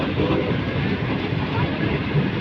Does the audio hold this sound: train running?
yes